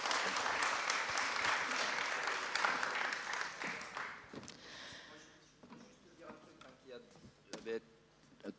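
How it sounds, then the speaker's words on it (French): An audience at a political talk applauds densely for about four seconds before the clapping dies away into scattered claps, murmurs and a few knocks. "vous pouvez applaudir"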